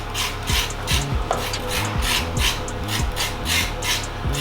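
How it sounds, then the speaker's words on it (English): A knife scrapes the skin off a raw carrot in steady back-and-forth strokes, about two per second, rasping and close, with no talking. "So I just simply scrape my carrot."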